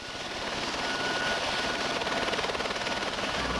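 A National Guard helicopter flies over flooded ground, its rotor and engine making a continuous loud drone with a rapid rhythmic chop, close and steady throughout.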